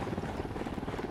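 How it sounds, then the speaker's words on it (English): In the video game Ghost Recon Wildlands, a helicopter approaches with a faint, steady rotor thump and engine drone lasting about a second. "We got a chopper coming in."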